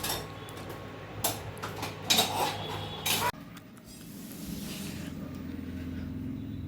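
Pots and dishes clatter in a home kitchen while rice is cooked, with scattered metallic clinks and scrapes up close, then a steadier, quieter background hiss after a sudden cut.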